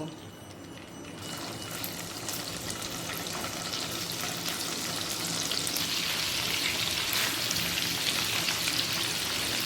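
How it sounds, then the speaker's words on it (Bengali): Paneer pieces fry in a mix of ghee and oil, giving a steady, close crackling sizzle that grows a little louder and brighter toward the end, with no one speaking. "এবার একে একে পনিরগুলোকে ভেজে নেব"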